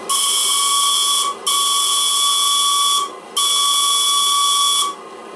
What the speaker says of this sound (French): Et à 4 bars, le sifflet est exceptionnel.